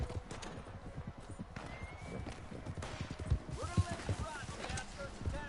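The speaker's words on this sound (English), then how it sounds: "Never trust a horse to get away from the lawman." Horse hooves clip-clopping on rough ground in the video game Red Dead Online, with a whinny and snorts while the horse is stuck on a rock, someone talking over it.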